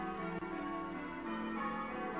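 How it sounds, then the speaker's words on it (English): Church bells from Ruswarp Church ring in the OpenRails train simulator on the Yorkshire Coast line, a sustained, moderately quiet peal of overlapping tones with no voices. "Some nice church bells going on there from Ruswarp Church"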